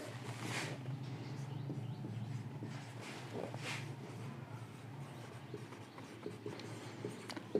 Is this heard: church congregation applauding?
no